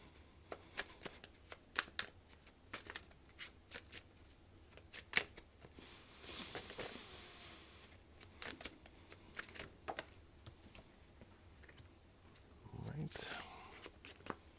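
Tarot cards are shuffled in quick, crisp riffling bursts spread across the whole stretch, close and fairly soft, while a person talks quietly in between.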